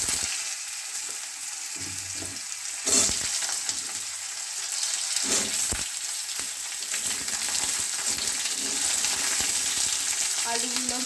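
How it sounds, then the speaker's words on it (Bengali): Potatoes frying in a pan with dried red chillies, a constant close sizzle with occasional clatter of stirring, no talking. "আলুগুলো ভাজা হোক।"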